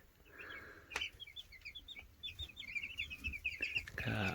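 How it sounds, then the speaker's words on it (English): Cornish cross meat chicks peep and cluck in a brooder, a near, busy chorus of short high chirps overlapping steadily with a few soft thumps. "We've also got this year's meat birds brooding."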